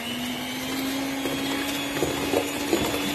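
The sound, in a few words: mixing brownie batter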